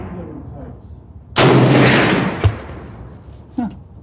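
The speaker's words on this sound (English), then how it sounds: "this is first time shooting 450 Bushmaster" A 450 Bushmaster rifle fires a single loud, close shot that cuts sharply into low background noise and decays over about a second, followed by faint clanks.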